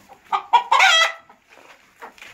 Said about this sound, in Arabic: اهو ده صوت الديك